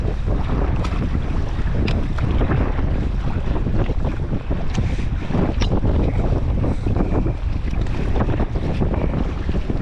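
Strong wind while sea kayaking along a cold coast on open water, a loud continuous buffeting rush across the microphone with water sloshing and waves mixed underneath, unbroken throughout.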